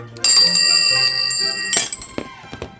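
Small bells from a Foley artist's prop collection jingle and ring loudly up close with bright, sustained metallic tones, followed by a few softer, scattered clinks as they settle.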